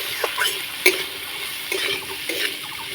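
Chopped vegetables sizzle softly in a frying pan while a spoon stirs them, giving a few light scraping taps over a faint steady hiss during a brief close-up moment.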